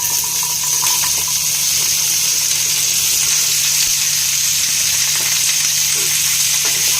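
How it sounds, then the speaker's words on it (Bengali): Vegetables frying with panch phoron spices in a pan, a steady loud sizzle that holds evenly throughout with no talk. "এটা একটু ভেজে নিব।"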